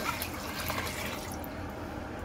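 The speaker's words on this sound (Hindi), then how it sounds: "अब इसमें मैं शामिल कर रही हूँ 4 गिलास पानी" Water from a glass is poured into a cooking pot of roasted white chickpeas for pulao, a brief splashing trickle that fades out toward the end, with no speech.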